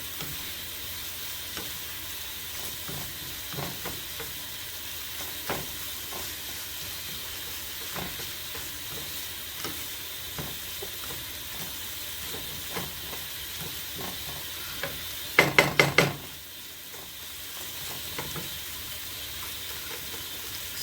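Shrimp and cabbage fried rice crackles in a hot pan with a constant sizzle, soft scraping and tapping of a utensil as it is mixed, and a brief cluster of metallic clanks near the end.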